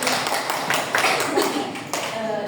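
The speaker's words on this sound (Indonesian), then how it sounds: "Mari kita tepuk tangan dulu." A small group claps hands together in a classroom-style group session, a dense, fairly steady patter of claps close by lasting a couple of seconds with no voices over it.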